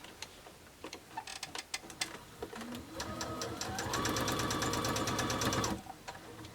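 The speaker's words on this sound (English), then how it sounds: "now we're stitching our rows together" Sewing machine stitches rows of a mini quilt together, starting with a few ticks and then settling into a steady, fast mechanical run that stops abruptly near the end, with faint background talk.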